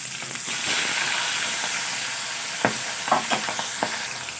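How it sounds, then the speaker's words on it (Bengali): Magur fish frying in hot oil give a continuous close sizzle, broken near the end by a few sharp clatters and scrapes as the pieces are turned. "তো মাছগুলোকে আমি খুব ভালো করে উল্টে পাল্টে ভেজে নেব।"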